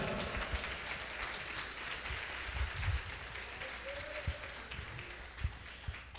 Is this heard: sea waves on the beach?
no